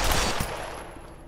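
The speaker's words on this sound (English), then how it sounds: "I hear gunshots." Gunfire in the VR shooter game Pavlov, a dense burst of rapid shots that starts loud and tails off over about a second, with no talk over it.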